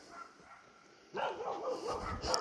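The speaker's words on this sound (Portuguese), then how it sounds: "Botaram um cão de guarda" A guard dog near an orchid nursery barks from a distance, starting after a quiet lead-in with a run of moderately loud, repeated barks that continue to the end.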